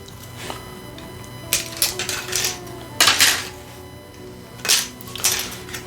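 A DSPIAE reciprocating sander buzzes with a steady low motor drone while cutting plastic model kit wing parts, broken by several sharp clicking, scraping bursts as the blade bites into the plastic.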